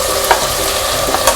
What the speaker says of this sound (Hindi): अब इसमें हम ये प्याज डालेंगे